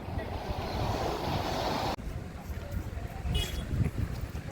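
Sea waves roll in at Digha beach, a broad steady wash of surf with wind buffeting the microphone, then a quieter stretch of breaking water after a sudden cut.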